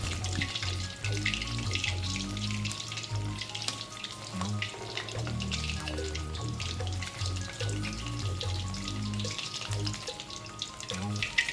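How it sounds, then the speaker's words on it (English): Prawn fritters fry in hot oil with a steady, bubbling sizzle that crackles continuously and evenly throughout, close by and moderately loud. "The fritters have been in the oil for 5 minutes."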